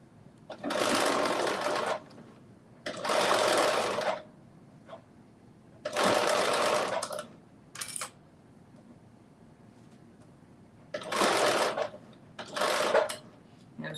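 A sewing machine stitches a knit crop top seam in several loud, close bursts of rapid whirring, each lasting one to two seconds, split by quiet pauses and a few short taps, with no voices.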